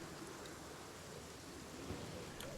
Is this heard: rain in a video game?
yes